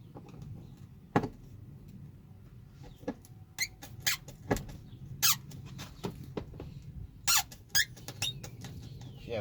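A Phillips screwdriver turning a screw out of a Toyota Highlander inner door panel, giving a quiet series of sharp squeaks and clicks at irregular intervals over faint background hum.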